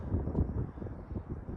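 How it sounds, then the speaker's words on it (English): Blustery wind buffeting the microphone on a spring morning at a lakeside campsite in Morphy Lake State Park, New Mexico, a steady low roar with gusty swells and no talking. "Very windy morning."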